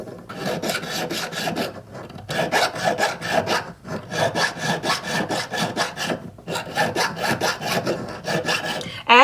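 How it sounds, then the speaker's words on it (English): A half-round file rasps around the inside of a wide-band metal ring in quick, rhythmic bursts of scraping strokes, grouped into several runs separated by brief pauses, close and clear with no talking. "As you're filing, you're wanting to go in this type of a motion, and you're wanting to rotate your ring as you're doing it"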